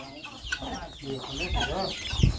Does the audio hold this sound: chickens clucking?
yes